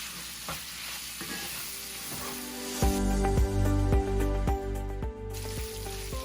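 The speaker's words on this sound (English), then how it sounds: "you can add your mayonnaise and then stir them all together." Pork sisig with mayonnaise sizzles loudly in a pan while being stirred, with steady frying crackle and repeated scraping strokes growing heavier partway through.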